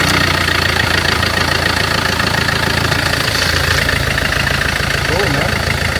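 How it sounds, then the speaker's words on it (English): A car engine runs at a steady, rough idle during a transmission check, with constant mechanical rumble and a faint knocking texture, close and loud throughout with no talk. "start the engine, mate."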